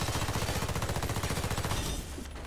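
Rapid automatic fire from an XRL PDW in the video game Warface: one dense, evenly paced burst of shots lasting about two seconds, loud and close, then cutting off into quieter background.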